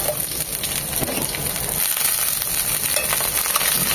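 Chopped garlic and dried chilli fry in hot oil for spicy batua greens, giving a steady, even sizzle with faint crackles that holds at a moderate level for the whole stretch, with no voices.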